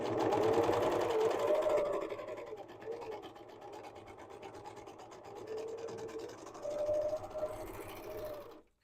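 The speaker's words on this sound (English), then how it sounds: "I'm going to serge this edge to finish it off" Serger overlock machine finishing the raw armhole edge of a cotton peasant dress, running in a steady loud whir that slows and eases off midway, then picks back up near the end.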